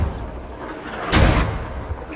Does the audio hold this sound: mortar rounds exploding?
yes